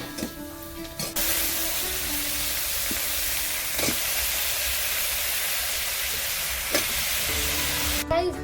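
Vegetables frying in a hot pan give a loud, continuous sizzle and hiss, with a few soft stirring knocks; a quieter stretch at the start and end frames the cooking noise.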